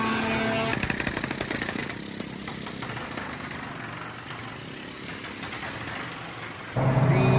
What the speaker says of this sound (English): Today the guys are sanding the inside, laminate to roughen it up.